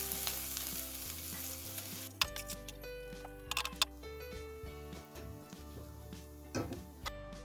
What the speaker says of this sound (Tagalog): Maglagay po tayo ng konting mantika. Brown po natin yung ating bawang.